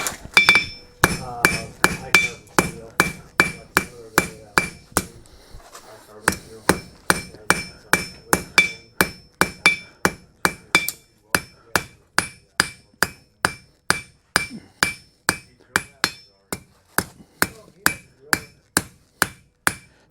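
A blacksmith hammers hot metal on an anvil in a steady, ringing rhythm of several dozen close, sharp blows. There is a brief pause early on before the strikes resume at an even pace.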